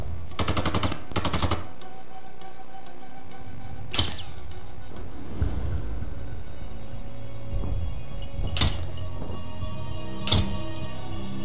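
Gunfire from the video game Sniper: Ghost Warrior 2: a rapid burst of shots at the start, then single loud cracks spaced several seconds apart over a low game background.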